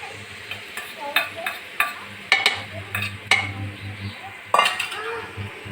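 Boiled whole mung beans tipped into hot garlic and chilli tempering, sizzling softly while a spoon stirs and clinks against the pan in several sharp knocks.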